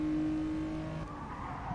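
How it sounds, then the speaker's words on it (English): A race car in a racing video game, taking the final corner of the Tsukuba circuit, with a steady engine drone fading as the car slows into the turn, fairly faint and with no voices. "we'll see how he produces a lap of this Tsukuba circuit as he heads into the final corner"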